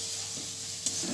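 A paste of ground coriander, cumin and green chilli sizzles steadily in a hot frying pan, with a faint scrape of stirring and a brief louder spatter near the end.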